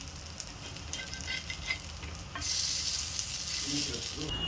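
Leftover-rice adai sizzles on a hot pan as it is flipped, a steady fine crackle that swells louder and brighter midway and holds there, with light scraping touches and no talk.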